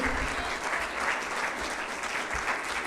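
Steady, dense applause from a church congregation fills the sanctuary, continuous and fairly loud with no pauses, offered as praise to God during a Spanish-language service.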